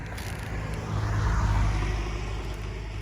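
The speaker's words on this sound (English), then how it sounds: "Car's coming, so I'm sorry about the sound right here." A car passes by outdoors, a soft broad road rush that swells to a peak midway and fades again, moderately distant, with no talk.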